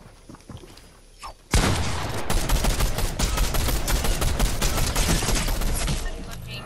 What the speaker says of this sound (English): Fucking infantry rifle. I forget it's not automatic.